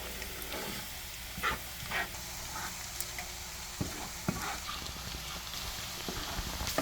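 Garlic sautéing in a pan over low to medium heat gives a steady, close sizzle with faint stirring scrapes and occasional soft clicks, and no talking.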